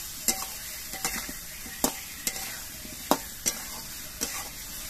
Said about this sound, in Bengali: এবার মশলা দিয়ে আমগুলো কিছুক্ষণ কষিয়ে নিতে হবে।